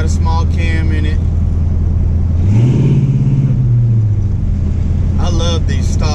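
Small-cam 350 crate motor in a 1984 shortbed truck with a 2400 stall converter, rumbling loudly and revving up and settling back once mid-clip, with someone talking before and after the rev.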